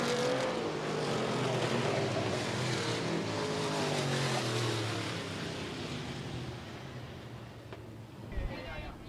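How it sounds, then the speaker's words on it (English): USRA stock cars race around a dirt track in a heat race at Rapid Speedway, their engines a broad distant roar that fades gradually, under a race announcer's commentary. "Rich Gregwire taking home the second and final heat race for the USRA Stock Cars"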